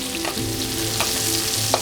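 A venison steak sears in a hot pan with a loud, continuous sizzle and frying crackle, and faint stirring or scraping sounds come through now and then. No one speaks.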